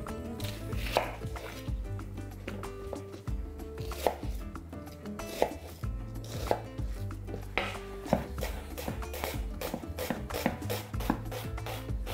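Onion being finely chopped with a knife for borscht, a steady run of crisp, rhythmic blade strikes on a board, close and clear over constant background music.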